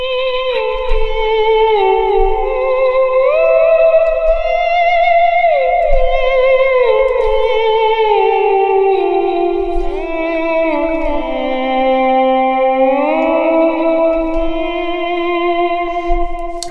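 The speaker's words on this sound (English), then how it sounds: "now I'll add that with a little delay from the El Capistan" Guitar played through a Flint reverb and an El Capistan delay, sustained gliding notes with soft echoing trails, fairly loud and steady throughout with no talking.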